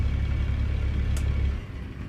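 A truck engine in a realistic owner-operator truck driving game rumbles low and steady, a constant drone that eases slightly toward the end, with one brief higher blip partway through.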